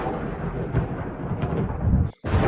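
Heavy rumbling thunder rolls through a storm, a dense low roar that swells and sustains for over two seconds, cutting off briefly before the rumble returns.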